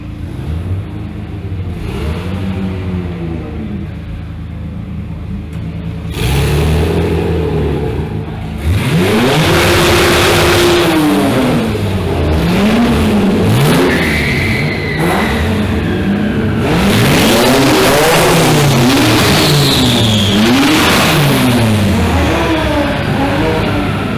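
Several Dodge car engines rev loudly again and again at Roadkill Nights 2024, pitch rising and falling in rough waves, close and continuous with a roaring mechanical drone.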